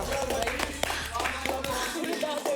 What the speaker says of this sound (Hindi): इप्शिता के लिए एक बार जोरदार तालियां हो जाए।